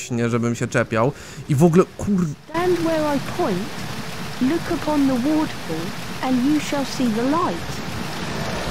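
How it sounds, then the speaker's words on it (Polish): A waterfall in Harry Potter and the Chamber of Secrets on the PS1 gives a constant rushing hiss throughout, playing steadily under someone talking over the game. "ten wodospad, to jest coś pięknego w tej lokacji"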